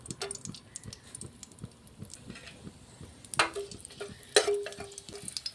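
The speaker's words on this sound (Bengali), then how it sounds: "তেলটা গরম হয়ে গেছে আমি দিয়ে দেবো দুটো তেজপাতা দুটো শুকনো লঙ্কা তিনটে এলাচ আর দারচিনি" Bay leaves, dried red chillies, cardamom and cinnamon dropped into hot oil while cooking chicken rezala, with a faint steady sizzle broken by two sharp crackling bursts as the spices hit the pan.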